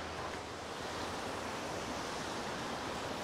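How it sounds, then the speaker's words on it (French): Cascada Nutria, a roadside waterfall, pours in a steady, dense roar of falling water with no breaks, heard from close by and without any voices. "Une belle cascade, mais vraiment au bord de la route."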